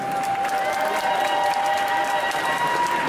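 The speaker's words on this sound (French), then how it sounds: "on peut les applaudir 2 fois plus fort même" Audience applause for performers at a cosplay parade during an indoor convention, a dense, steady wash of clapping with faint cheering filling the whole stretch at even loudness, no voices rising above it.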